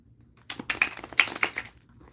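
Tarot cards being shuffled up close, a quick burst of crisp riffling clicks and slaps lasting about a second between quiet pauses.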